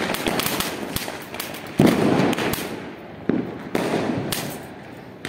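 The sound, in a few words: firecracker being lit and going off during Diwali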